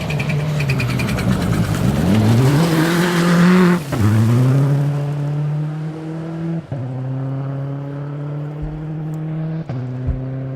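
Rally car at the 2012 Olympus Rally, Stage 4, on a gravel stage, its engine loud and close, revving and shifting through gears with rising and falling pitch, with brief tire scrabble and skids.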